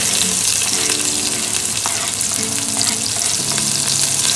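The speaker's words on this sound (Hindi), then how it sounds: "ऑयल गर्म हो गया तो हम इसमें डालेंगे पहले गार्लिक" Garlic hits hot cooking oil in a pan with a steady, close sizzle and crackle that runs throughout, joined by a few faint clinks of a utensil.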